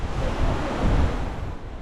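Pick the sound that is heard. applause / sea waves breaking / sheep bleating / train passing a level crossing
sea waves breaking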